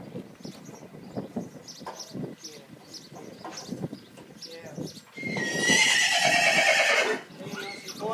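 Inside a horse float, a horse gives a loud, shrill whinny near the end. Before it come softer horse sounds and hoof clops, and someone talks throughout.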